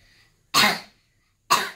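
Two coughs from a girl with cystic fibrosis at a clinic, close and fairly strong, separated by about a second of quiet, the first a bit longer than the second.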